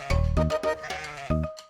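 A human voice imitates a goat, giving a few short, nasal, wavering bleats in quick succession, close and fairly loud, with brief gaps between them.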